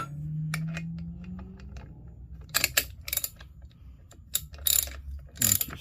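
A hand ratchet clicks as it tightens bolts during a rebuild of an 8.75 Suregrip axle differential with a 489 case and 3.23 gears. Several separate bursts of sharp ratcheting come up close over a low steady hum.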